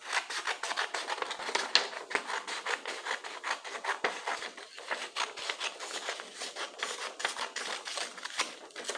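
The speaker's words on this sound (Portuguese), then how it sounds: "Depois de ter marcado, nós vamos cortar." Scissors cutting through folded paper for a Father's Day craft, a steady run of crisp rasping snips close up with no talking.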